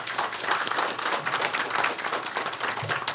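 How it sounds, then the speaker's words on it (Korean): An audience at a public-sector forum gives a professor a warm welcome with a short burst of dense, even clapping, close and steady throughout. "김창봉 교수님을 뜨거운 박수로 맞이하여"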